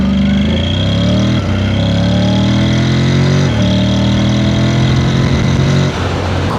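Honda NC750X DCT motorcycle accelerating from 0 to 60, its loud engine rising steadily in pitch with brief smooth dips at the automatic gear changes, heard close and continuous.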